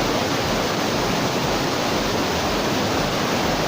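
A waterfall swollen with abundant spring water roars in a steady, dense, full-band rush, loud and close, with no voices.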